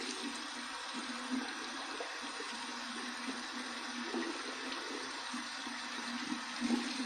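Cold tap water runs in a steady, faint stream over a razor, a continuous hiss with no talking.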